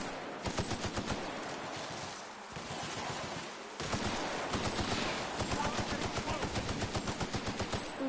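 Sustained heavy-weapon automatic fire in a video game, loud rapid rhythmic bursts running almost continuously with a brief pause partway through and then resuming even louder.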